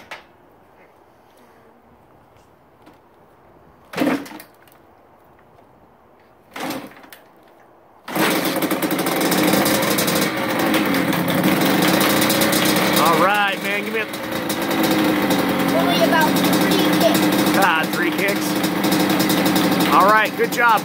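After a few faint kicks and clunks, a freshly rebuilt Honda CR85R two-stroke dirt bike engine catches and runs loud and close, idling raggedly with occasional revs while people talk over it.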